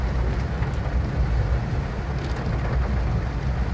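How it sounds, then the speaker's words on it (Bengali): Rain on a car being driven slowly in a single lane, a steady, dense hiss with low road and wind rumble filling the whole stretch, no one talking. "যেহেতু বৃষ্টি পড়ছে আর এমনিও আমাদের লার্নিং স্পিড 20, ওর উপরে উঠবো না।"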